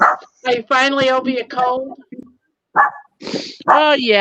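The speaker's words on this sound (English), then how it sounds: "Oh, that's my dog. I'm outside." A pet dog barks outdoors in short yips and woofs, mixed in with a woman chatting close by.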